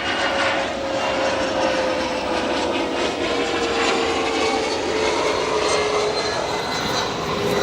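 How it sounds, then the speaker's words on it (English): SkyWest CRJ 200 regional jet arriving at Chicago O'Hare Airport, a loud continuous engine roar with a steady whining tone that slowly drops in pitch, heard alone without talk. "we have a Sky West CRJ 200 that you'll hear arrive here"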